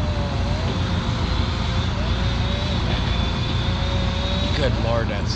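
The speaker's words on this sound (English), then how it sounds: "Good lord, that saw's going." An Edco saw's engine runs loudly and steadily outdoors, a continuous droning roar with a high whine. It holds for the whole stretch, and people talk over it.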